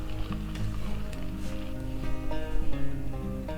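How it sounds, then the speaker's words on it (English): Peppers, onion, garlic, turmeric and paprika sizzle steadily in a pan, a constant crackling hiss with faint stirring clinks over a low kitchen hum. "I'm going to add all the peppers, the onion, garlic in this pan, add some turmeric, and then mix everything together"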